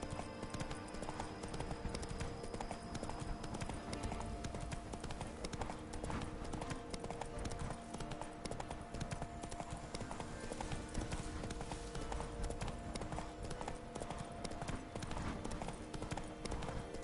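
Geralt's horse Roach trots in The Witcher 3: Blood and Wine, with steady, rapid clip-clopping hooves running continuously under dense game ambience.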